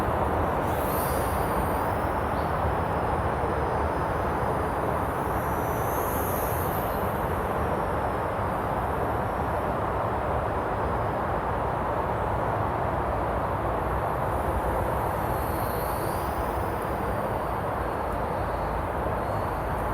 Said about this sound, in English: I reduce the throttle to almost 0 to drop altitude and speed.